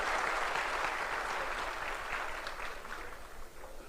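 A large audience at a Maharashtra political rally applauds Devendra Fadnavis, a dense, steady roar of many hands clapping that holds loud for several seconds and eases slightly toward the end, with no voices over it.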